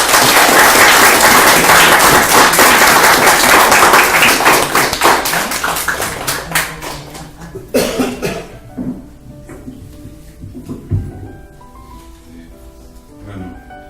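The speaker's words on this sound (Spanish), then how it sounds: "Un aplauso por él" Audience applause at a book presentation, loud dense clapping for the first few seconds that thins out and fades, followed by scattered taps, a cough and soft room noise.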